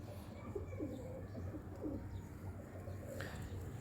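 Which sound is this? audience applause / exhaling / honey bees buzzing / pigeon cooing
pigeon cooing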